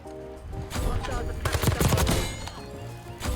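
ABR A1 rifle with a rapid fire attachment in Black Ops 6, firing a loud dense burst of rapid shots over a couple of seconds amid in-game noise.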